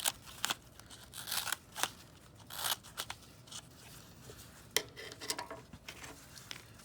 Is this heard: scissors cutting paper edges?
yes